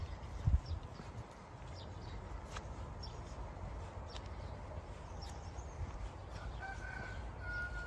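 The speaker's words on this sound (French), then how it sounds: "Il se lève tard le coq, hein." A rooster crows in the Basque countryside in the morning, heard faintly and far off over a quiet outdoor background along a pilgrimage trail.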